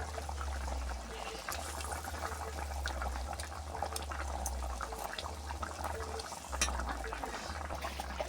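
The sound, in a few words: fish pieces added to simmering curry with water in pan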